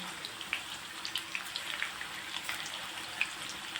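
Raw banana is grated straight into hot oil on a low flame, giving soft, close sizzling with scattered light crackles and pops over a faint hiss, quiet and unbroken by talk.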